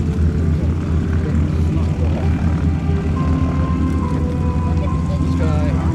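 A World War II propeller aircraft at the Geneseo, New York airshow, its engine droning loud and steady throughout with a constant low throb, while a voice talks over it.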